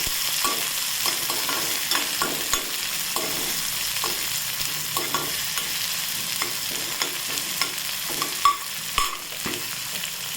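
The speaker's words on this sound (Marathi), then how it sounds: "कांदा घालायचा बारीक कापलेला. त्याला छान फ्राय करून घ्यायचं 2 मिनिटं." Finely chopped onion fries in a pan with a steady broadband sizzle. Occasional scrapes and stirring clicks rise above it, and a couple of sharper knocks come near the end. No one speaks.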